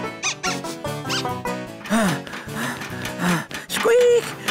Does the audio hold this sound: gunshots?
no